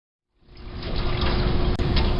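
Water from a constant head permeameter outlet pours out after the control valve closes, a steady close rush starting half a second in and holding even, with one brief dip near the end.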